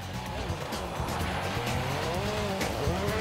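A WRC rally car on special snow tyres races over a snowy stage in Sweden during the 2003 season, its engine roaring and shifting pitch while tyres hiss and scrabble throughout, loud and close.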